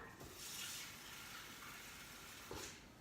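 Water is poured into a homemade laundry detergent mixture containing baking soda, a faint, steady splashing stream with a light knock near the start and another near the end.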